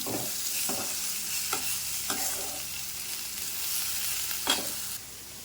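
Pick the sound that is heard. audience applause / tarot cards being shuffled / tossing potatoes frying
tossing potatoes frying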